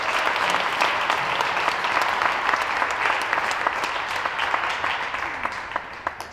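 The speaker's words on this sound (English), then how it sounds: "Please give them a round of applause." A crowd applauds at a girls' varsity senior night, with dense, steady clapping close by that slowly fades toward the end.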